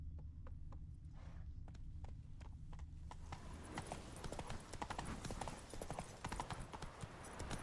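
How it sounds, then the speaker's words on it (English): Roach, the horse in The Witcher video game, clip-clops along steadily; the hoofbeats are sparse and distinct at first, then blur into a denser, noisier gallop over rough ground. "Whoa there, Roach."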